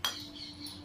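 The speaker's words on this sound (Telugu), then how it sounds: "కాఫీలో పాలు కలుపుతున్నా" A spoon clinks against a cup while milk is stirred into coffee: one sharp bright metallic chink at the start, then a faint ringing tail and soft scraping, close and fairly quiet.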